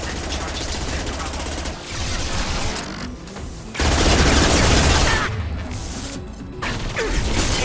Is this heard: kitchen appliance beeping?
no